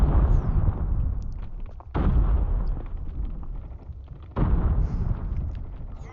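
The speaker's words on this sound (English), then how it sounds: "Where are these grenades coming from?" Grenade explosions in the Call of Duty Mobile battle royale game, three heavy, booming blasts with long rumbling tails, each one loud and close.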